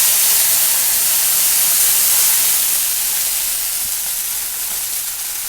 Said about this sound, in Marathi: आणि थोडं पाणी ओतून घेते।